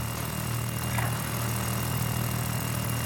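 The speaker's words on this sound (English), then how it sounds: "that helicopter is just having the time of their life" A helicopter in the Warzone video game drones steadily throughout, a continuous low rotor-like hum under broad mechanical noise, with no talk.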